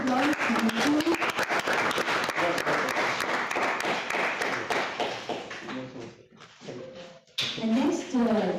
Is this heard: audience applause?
yes